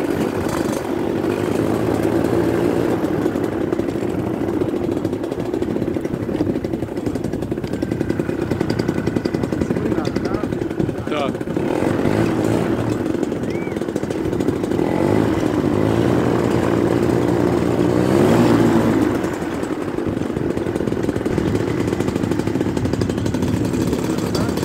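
A paramotor engine runs before a powered paraglider takeoff in João Pessoa, a continuous buzzing propeller drone close by that swells and dips slightly, with faint voices under it.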